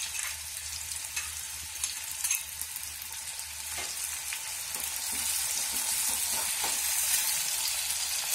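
Onion frying with garlic, ginger, green chili and curry leaves in oil, a soft continuous sizzle that grows slightly denser toward the end, with a few faint utensil scrapes and no talking.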